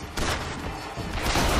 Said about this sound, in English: I want to see what this gun does.